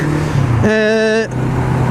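Yamaha R3 motorcycle riding in road traffic, its engine note rising in a steady tone for about half a second of revving amid a constant rush of traffic and wind noise.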